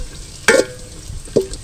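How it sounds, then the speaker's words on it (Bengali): Cashews and raisins go into hot spiced oil for pulao, two sharp sizzling bursts as they hit the pan, with faint stirring and low frying crackle between. "কাজু আর কিশমিশটাও একটু ভেজে নেব।"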